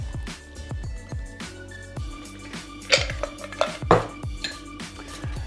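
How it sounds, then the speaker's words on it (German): Melt water is poured off ice in a mixing glass during cocktail preparation, with clinking ice and glass knocks, light splashing and a few sharp rattles, close and moderately loud. "kurz das Schmelzwasser abgießen"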